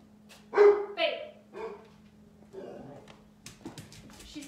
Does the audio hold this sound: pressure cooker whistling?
no